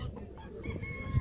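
Roosters and hens at a busy poultry market, with a short crow-like call and clucking rising over a low murmur of crowd noise.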